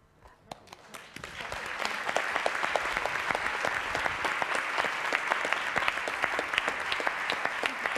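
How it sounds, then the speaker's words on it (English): Applause from the audience at a dance congress wrap-up builds from a few scattered claps into dense, sustained clapping that carries on evenly to the end. "And please give me another applause."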